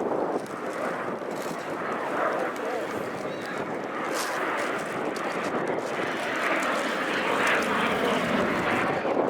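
A Messerschmitt Me 262 jet fighter performs a flying display at RIAT 2023, its jet engines producing a continuous, fairly loud roar with wind buffeting the microphone throughout.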